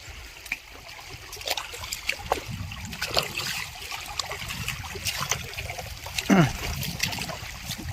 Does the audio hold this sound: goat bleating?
no